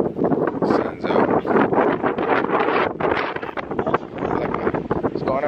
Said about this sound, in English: The wind feels good.